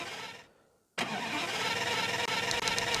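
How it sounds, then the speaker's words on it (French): An aircraft engine starts up in the RFS flight simulator game, sounding like an old car: a cranking whir fades, a short silence falls, then the engine catches abruptly and settles into a steady loud running drone. "Le bruit de démarrage, c'est genre un bruit de vieille voiture"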